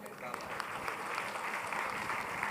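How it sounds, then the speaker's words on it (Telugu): Dense applause from an audience at an evening honours ceremony for a classical music festival, a steady wash of clapping holding throughout with no clear pauses. "అందరూ కూడా చప్పట్లు కొట్టండి"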